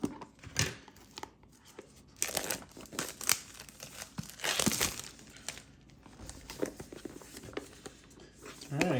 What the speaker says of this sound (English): got the cellophane tore off of there